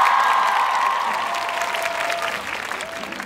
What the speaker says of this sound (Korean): 우리 실장님한테 박수 한번 드릴까요?